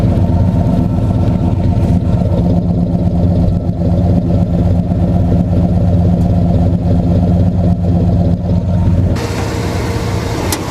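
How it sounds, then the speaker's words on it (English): A 1965 Chevy Impala with a classic carbureted 283 Detroit V8 idles steadily up close, its exhaust giving a deep, continuous rumble that stays loud and even throughout, shifting slightly in tone near the end. "Let's start the engine again, and we're gonna see how it sounds on camera a little bit. I hope you can hear the exhaust."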